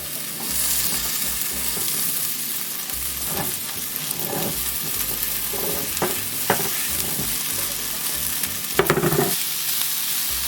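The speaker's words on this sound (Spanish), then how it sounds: "Ahora vamos a agregar la papita." Diced potatoes stirred into a sizzling chickpea stew in a pot: a constant frying hiss broken by scraping spoon strokes and a few sharper knocks, close and alone without speech.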